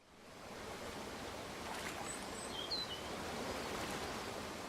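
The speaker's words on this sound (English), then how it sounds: "reusing my water footstep sounds and picking out only the sounds in which the foot travels through the water" Soft water lapping against rocks in an Unreal Engine maze level, made from reverberant water footstep sounds, forms a quiet, continuous wash that swells gently.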